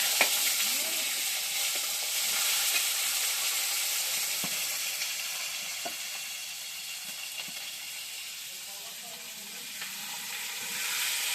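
Cumin seeds tempering in hot oil, a soft continuous sizzle and crackle with small pops and occasional stirring clicks, fairly quiet and close, with no one talking.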